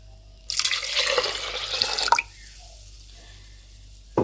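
Water poured from a glass into dal in a pressure cooker, a steady splashing pour for about a second and a half before it cuts off, followed by quiet and a brief clatter at the end.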